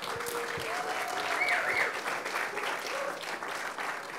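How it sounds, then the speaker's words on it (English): Steady applause from an audience at a fundraiser in New York, many hands clapping together at moderate level for the whole stretch, with faint crowd murmur beneath. "I want all of you to give a clap"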